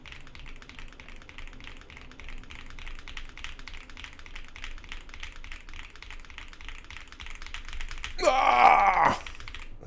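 Keyboard typing during an online typing race, a steady stream of soft rapid key taps through the clip, with a louder burst of activity near the end.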